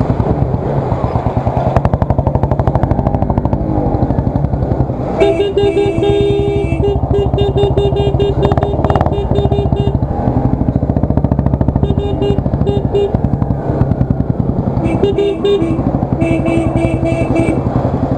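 A car drives along a snowy, icy and muddy expressway with a loud, constant engine drone and road rumble, with a few bursts of horn-like tones from nearby traffic.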